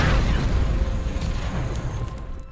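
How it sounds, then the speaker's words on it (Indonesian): A grenade explosion in a film scene lands as a loud, heavy boom at the start, followed by a rumbling decay that fades over a couple of seconds. "Tiba-tiba sebuah granat meledak tepat di hadapannya hingga membuatnya terpental."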